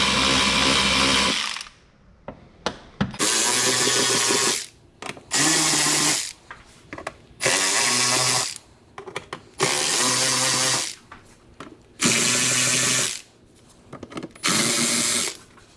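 A power tool removes screws from the air filter housing of a 2012 Audi R8 V10, sounding in short loud whirring bursts of a second or two each, repeated about seven times with quiet gaps between them.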